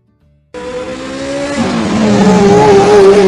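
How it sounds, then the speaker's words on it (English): A race car engine roars in abruptly and revs higher, its loud whine climbing in pitch as it accelerates, with a hint of tire squeal. "1 race car."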